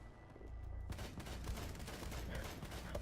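Gunfire from the tactical shooter Rainbow Six Siege, a dense, continuous rattle of shots that sets in abruptly about a second in and stays loud and close for the remainder, with no talk over it.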